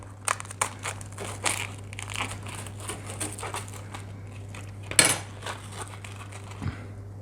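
A knife scrapes and crunches through toast topped with burnt grilled cheese, close crackly sawing strokes against a plate over a steady low hum, with one sharper clink near the end.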